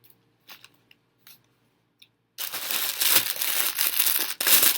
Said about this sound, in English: Sorry, not sorry for the crinkling.